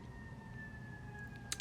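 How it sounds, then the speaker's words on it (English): Emergency vehicle siren far in the background, a faint steady wailing tone under low room noise, with a brief click near the end. "sorry about the sirens y'all hear in the background"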